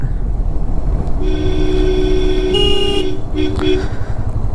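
A vehicle horn sounds on a hilly road during a motorcycle ride, a loud sustained multi-tone blast of about two seconds, then a shorter second toot, over engine and wind rumble.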